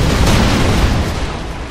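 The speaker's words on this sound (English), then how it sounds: "Get that autocannon firing." Autocannon firing in the Rise of the Reds strategy game, a loud, dense burst of booming rounds merging into one continuous roar that tapers slightly at the end.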